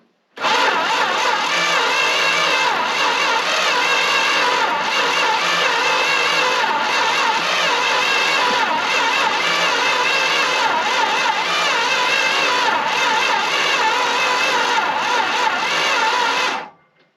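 A Dodge W300 4x4 dump truck engine cranks without catching, a loud, steady starter churn with rhythmic pulses lasting about sixteen seconds before stopping abruptly.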